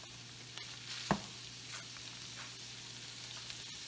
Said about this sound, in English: I'm going to take 1 stick of butter, and I'm going to put this inside of the oil.